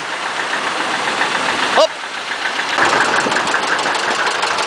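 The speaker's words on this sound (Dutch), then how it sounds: "er komt zo een bus aan. Kijk, daar komt hij." A bus engine rumbles steadily as it rolls past at a town parade, close and loud, with a brief shout partway through and people talking over the engine noise.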